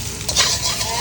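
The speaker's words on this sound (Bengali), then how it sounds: "এখন হচ্ছে আমি জাস্ট পাটাটা ভেজে নেবো।" Potatoes, parboiled first, fry in a pan with a close, steady sizzle and a brief burst of stirring.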